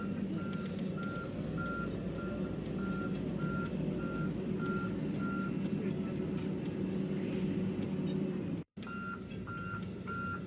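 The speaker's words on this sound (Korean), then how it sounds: "후진 시 이렇게 알람이 울려서 정상입니다." Reversing alarm on an excavator during a reverse-travel check, a steady evenly spaced series of beeps over a loud diesel engine rumble, briefly cut by a gap near the end.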